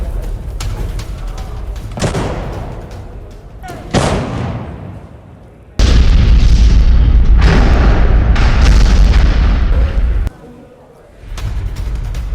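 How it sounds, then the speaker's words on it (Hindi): Russian artillery fire hitting Ukrainian positions, heavy booms and rumbling blasts, one long loud sustained roar mid-clip, with sharper impacts around it, close and powerful. "आर्टिलरी से यूक्रेनी सेना पर अटैक किया गया।"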